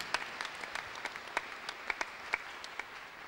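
Scattered hand claps from a church congregation in a worship service, faint and irregular against a low background murmur, with a few sharper claps standing out.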